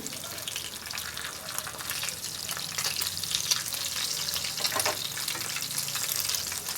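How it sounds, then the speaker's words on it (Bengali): Koi fish frying in hot oil in a pan, a loud and steady close sizzle that lasts throughout, with slight surges as the fish are turned. "মাছগুলো আমি উল্টে পাল্টে ভেজে নিয়েছি"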